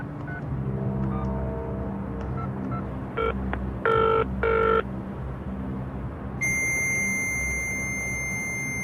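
A call is placed to the Ministry of Defence. Over a low background hum, a few touch-tone keypad beeps sound in quick bursts, followed by a sustained electronic tone on the line.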